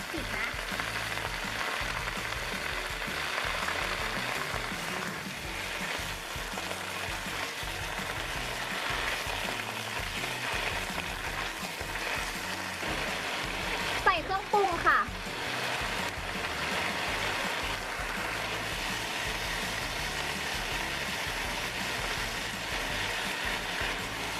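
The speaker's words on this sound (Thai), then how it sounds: "เดี๋ยวไปเอาคะน้าลงไปเลยค่ะ เติมน้ำนิดนึงนะคะให้เขาแบบพอมีน้ำ" Chinese kale and crispy pork stir-frying in a wok as water is added, a steady soft sizzle with a brief clatter of utensils midway, someone talking over it.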